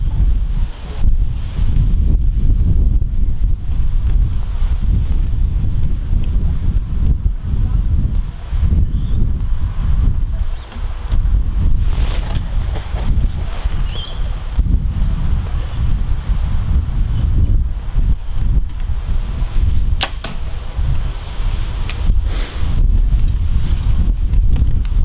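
Strong wind buffeting the microphone at an outdoor archery range during a compound bow test, loud continuous low rumble with gusty surges throughout, a voice faintly under it.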